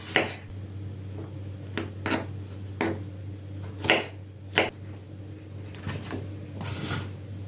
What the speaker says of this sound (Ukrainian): І огірочки покришу також я соломкою.